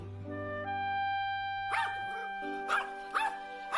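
An animated dog barks in a few sharp bursts over a sustained musical backing, with the barks fairly close and moderately loud.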